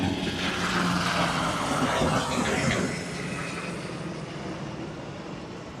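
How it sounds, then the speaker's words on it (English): Osprey tiltrotor aircraft pass low overhead during a Parade of Tall Ships in New York City, a broad loud engine roar that peaks early and then slowly fades as they move off. "Some more ospreys flying overhead."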